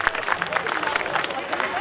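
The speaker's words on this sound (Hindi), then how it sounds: "एक बार और जोरदार तालियों के साथ इनका हौसला अफजाई किया जाए" A stage-program crowd claps energetically, a brisk mass of overlapping claps with slight rhythmic surges, moderately loud, with faint crowd murmur beneath.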